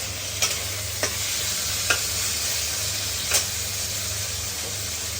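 Beans, carrots and capsicum frying together in a pan, a steady broad sizzle with a few sharp stirring scrapes and pops scattered across it, close and continuous.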